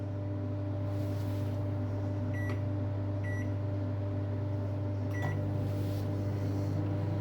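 An old microwave oven runs a 15-second timed cook in a shed, a steady loud hum with a few short beeps over it.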